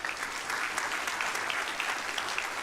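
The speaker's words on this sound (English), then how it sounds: "So please give them a big round of applause." Audience applause at a sheriff's office awards ceremony, a steady wash of clapping hands sustained throughout at moderate loudness with no voices over it.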